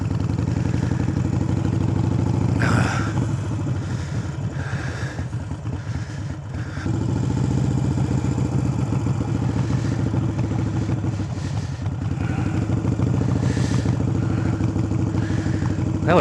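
Motorcycle engine running steadily through a parking lot U-turn practice run, a continuous mid-pitched drone that dips briefly around a few seconds in, with light clatter and small throttle changes, fairly close and with no talking.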